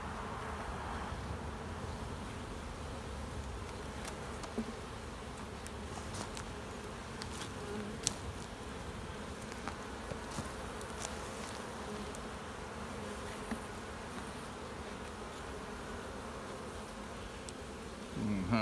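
Honey bees swarm around an open, boosted hive during an inspection, producing a steady, dense, low buzzing throughout at a moderate distance, with occasional brief knocks.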